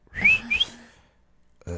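A person tries to whistle, producing a couple of short, breathy, wavering whistle tones close by, followed by a pause and a brief louder sound at the end.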